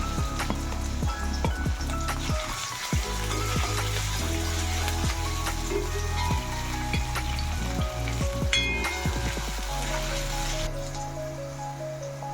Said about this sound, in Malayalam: ഒന്ന് വഴറ്റി കൊടുക്കാം. ഇനി പച്ചമുളക് ചേർത്തി കൊടുക്കാം.